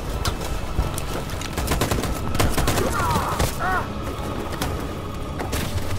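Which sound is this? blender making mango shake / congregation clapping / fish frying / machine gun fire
machine gun fire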